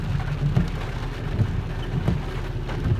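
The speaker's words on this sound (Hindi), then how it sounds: "भयानक बारिश हो रही" Heavy rain pours down steadily during a thunderstorm, a loud dense hiss with low rumbling thunder underneath, close by and continuous, with no talking.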